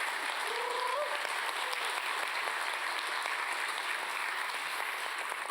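A large audience claps steadily at the close of a migration and music stories event, a dense, even wash of applause that holds at a constant level with no pauses.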